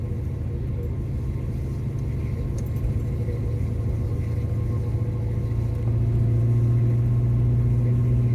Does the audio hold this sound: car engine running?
yes